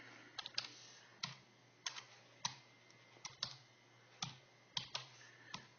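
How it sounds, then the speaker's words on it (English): Someone types a serial number on a computer keyboard: quiet, irregular clusters of key clicks in short bursts over a low steady hum, with no voices. "I'm going to go ahead and type this in."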